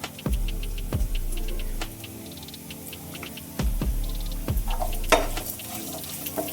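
Star anise, peppercorns and curry leaves fry in oil in a pan for a Mangalore-style chicken sukka, a close crackling sizzle marked by several sharp spatula clacks and stirring scrapes, with no talk.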